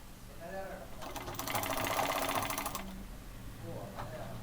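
A sewing machine stitching a pleated nighty whirs in a fast, steady run of rattling stitches for about two seconds, framed by quieter handling sounds before and after.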